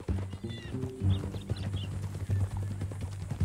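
Horse hooves clip-clop at a steady walking pace in Red Dead Redemption 2, close and clear, with a tonal game score humming underneath and faint voices in the background.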